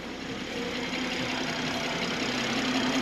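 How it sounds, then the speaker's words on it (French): A BMW Z4 M40i with its 340-horsepower B58 six-cylinder engine runs at a steady idle, a dense continuous drone held close and fairly loud throughout, with no voices. "Vous allez entendre par la suite donc le son du 6 cylindres qui est vraiment toujours agréable"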